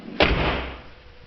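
The door of a Duramax pickup truck swings shut with a single solid thump, followed by a brief fading rumble, close and fairly loud.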